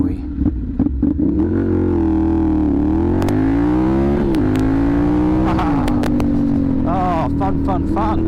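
2010 Ducati Monster 696+ motorcycle pulling away quickly, its engine note rising steadily through the revs, loud and close throughout.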